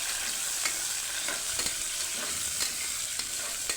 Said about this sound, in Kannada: ಕಟ್ ಮಾಡಿ ಇಟ್ಕೊಂಡಿರುವಂತಹ ಒಂದು ಈರುಳ್ಳಿನ ಹಾಕ್ಕೊಳ್ತಾ ಇದ್ದೀನಿ. ಹಾಕ್ಕೊಂಡು ಸ್ವಲ್ಪ ಸಾಫ್ಟ್ ಆಗೋ ತನಕ ಚೆನ್ನಾಗಿ ಹುರ್ಕೋಬೇಕು